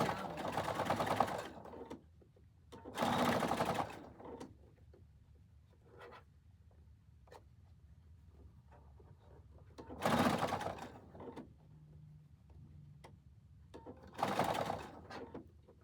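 Sewing machine running a 1/8 inch stitch, in short loud bursts of rapid stitching separated by quieter pauses with faint handling noise.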